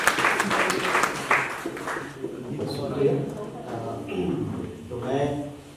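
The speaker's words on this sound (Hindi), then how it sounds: "जोरदार तालियों के" An audience at a Hindi literature festival at Hindi Bhavan, New Delhi, claps for the next speaker: scattered applause fades under someone speaking into a microphone.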